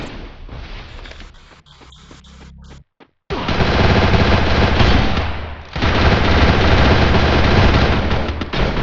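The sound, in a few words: video game gunfire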